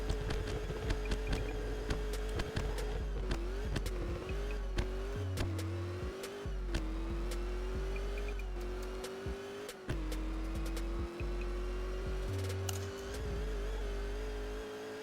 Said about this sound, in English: Let's do a 7K launch in this car.